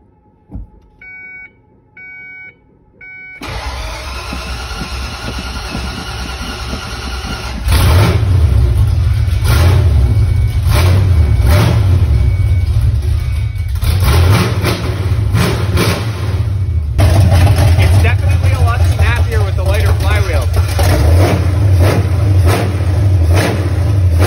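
Inside a garage, the engine of a Ford F-150 Enforcer truck cranks and starts after short starter bursts, settles into a loud idle, then revs repeatedly with steady throttle blips, close and alone.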